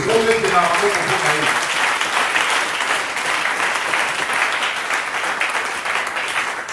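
A church congregation bursts into loud, sustained applause during a worship service, dense clapping filling the room while a voice speaks briefly at the start.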